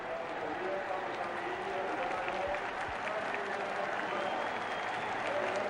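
Roughly 40,000 spectators applaud steadily at a Coupe de France football final, a dense, continuous wash of crowd clapping that holds at an even level throughout.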